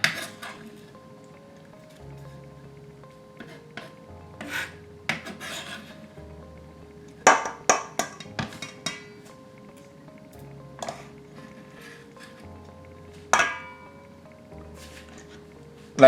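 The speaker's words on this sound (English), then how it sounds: "So we'll add the green onions to the shrimp." Chopped green onions scraped into a pan of Jamaican curried shrimp, with scattered clinks and rasping scrapes of a utensil against the pan, a few sharper knocks, and long quiet gaps.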